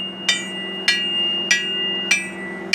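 Metal hammer strikes on a farm tillage machine, a Salford 4200, during drawbar height adjustment: five sharp, evenly spaced ringing blows about every 0.6 seconds over a steady low engine hum, with no talking.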